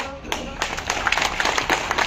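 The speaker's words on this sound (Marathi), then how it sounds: "आता तुम्ही टाळ्या वाजवल्या" A crowd at an OBC protest rally in Pune breaks into dense, irregular applause that rises quickly, with a voice talking over it.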